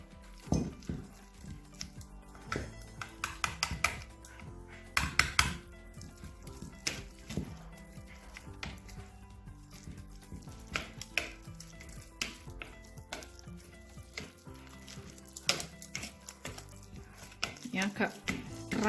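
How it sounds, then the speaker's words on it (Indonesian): Soft butter is whisked into dough in a bowl for onde-onde or oliebollen, an irregular scraping and slapping rhythm that stays close but fairly quiet, with occasional sharper knocks against the bowl. "Ini kita kocok lagi sampai menyatu."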